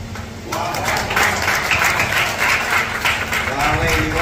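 Applause from a small gathering after a bride recites a Marathi ukhana, a burst of steady close clapping lasting a few seconds with voices mixed in.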